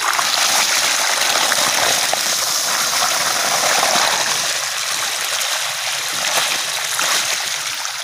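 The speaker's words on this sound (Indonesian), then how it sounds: "Airnya udah mengalir." River water pumped from a stream onto dry rice fields in the dry season, gushing and splashing steadily and close up with no break, and no talk over it.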